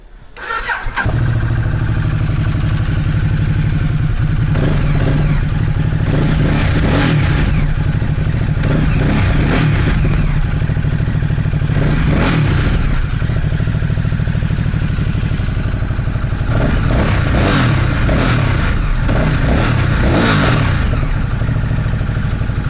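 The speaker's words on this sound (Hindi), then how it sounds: "कैसी लगी आवाज़ इस L Twin मॉन्स्टर की?" A Ducati Monster L-twin motorcycle engine cranks and catches, then idles with a deep lumpy pulse broken by several sharp throttle blips, loud and close with no talking.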